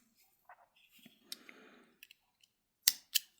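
Scissors snipping the leftover tail of crochet thread on mini rainbow earrings, a few soft close snips and clicks in a quiet room, ending with two sharper metallic cuts.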